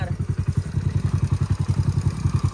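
A Splendor motorcycle engine runs nearby with a steady, rapid chugging beat of low thumps throughout.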